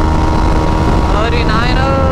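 A KTM Duke 390 motorcycle at speed on a highway, the engine roaring loudly under heavy wind buffeting, with a rising tone as it revs through the gears.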